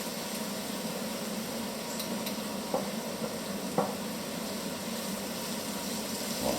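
Onions cooking slowly with honey in a pan over very low heat, a steady soft sizzle with a few faint scrapes of stirring, quiet and close, no talk.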